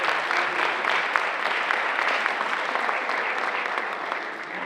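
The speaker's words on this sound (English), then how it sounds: "So a big round of applause for the Boosters Club." At a high school fall sports awards night, an audience gives a big round of applause for the Boosters Club volunteers. The clapping is dense and sustained, and eases slightly toward the end.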